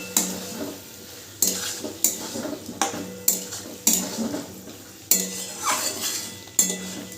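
Soybean masala with cumin powder stirred in a pan under a low flame, a spoon scraping and clinking against the metal in regular strokes over a bright sizzle, close and alone.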